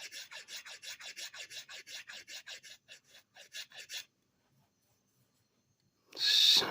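A carved wooden piece is scraped close by in fast rhythmic rasping strokes, about a dozen in a row. A pause follows, then a brief loud rustle at the end.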